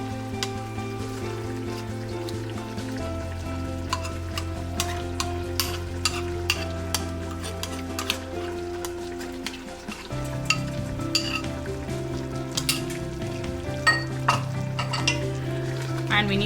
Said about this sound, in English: we need to saute until the raw smell goes and everything combines well